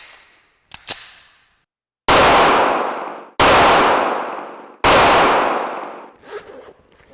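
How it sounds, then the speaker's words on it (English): Three loud, sharp 9mm full metal jacket gunshots at an outdoor shooting range, evenly spaced about a second and a half apart, each cracking hard and then decaying, with lighter handling clatter before and after. "We're going to start with a 9mm, a full metal jacket, and we'll fire 3 rounds."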